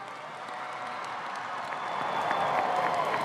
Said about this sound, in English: I need you to applause as we acknowledge these folks in the audience today.